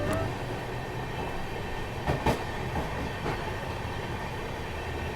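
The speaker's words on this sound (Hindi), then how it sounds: "हालांकि ट्रेन शायद से स्लो हो रही है, शायद से यहाँ पे ट्रेन रुक जाए।" Shatabdi Express train rolling through a station in India, heard from inside a coach as a steady loud rumble with a few brief clacks of wheels over rail joints.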